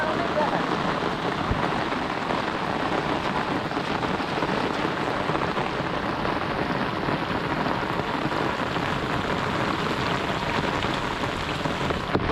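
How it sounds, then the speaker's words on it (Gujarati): Heavy rain pours down over a village in Gujarat, a dense, unbroken roar of drops hammering surfaces that holds at an even, loud level throughout. "વરસાદ આવી ગયો"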